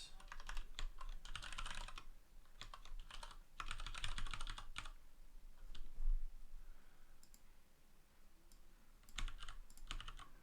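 Typing on a computer keyboard with bursts of rapid key clicks separated by short pauses, close and clear with no talking.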